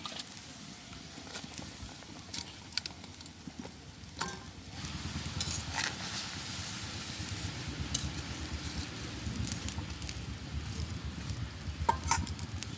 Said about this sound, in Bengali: ঝোলটা সুন্দর করে ফুটে আসছে, আমি এখন মাছগুলো দিয়ে দেবো